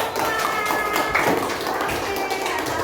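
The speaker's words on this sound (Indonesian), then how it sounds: "tepuk tangan" A classroom of Indonesian student teachers breaks into brisk clapping, a steady patter of many hands close by that runs for about three seconds, with voices mixed in.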